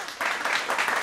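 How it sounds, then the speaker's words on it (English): Brief burst of audience applause, a dense wash of clapping that swells after a short quieter start and stays loud and steady throughout. "Get loud and round of applause."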